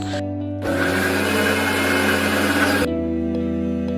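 A mixer grinder whirs steadily for about two seconds while blending a raw mango summer drink with palm sugar, a loud broadband motor drone that starts abruptly and cuts off, with a low hum before and after.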